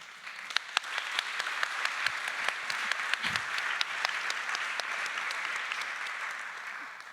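An audience at a book launch breaks into applause, a steady wash of many hands clapping throughout, moderately loud and unbroken.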